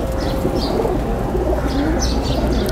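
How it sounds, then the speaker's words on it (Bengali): Several pigeons coo in a home coop, soft throaty calls repeating over a constant low rumble and hiss, with a few higher chirps, close and fairly loud. "এই আছে কবুতর অনেকগুলো"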